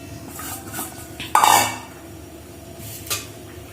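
Soaked sabudana scooped out onto a plate: a brief clatter of spoon against metal midway, a fainter tap later, over a quiet kitchen background.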